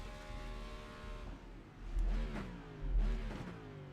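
A NASCAR Cup Series race car in iRacing at the Indianapolis road course revs its engine, a steady mid-pitched drone rising in two surges of acceleration, close and loud with no talk.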